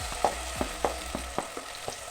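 Chopped banana pieces frying in ghee with a soft crackle, stirred by a utensil that knocks the pan in about seven regular, close taps.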